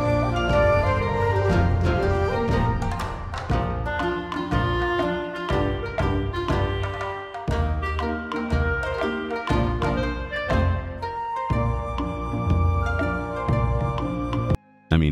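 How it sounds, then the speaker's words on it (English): Upbeat, playful 777 Whiskers theme from Final Fantasy XIV, played in the game's Orchestrion, with a full, busy instrumental mix of bright melodic lines over steady rhythm, continuous and loud throughout, with no voices. "777 Whiskers theme, which sounds like this."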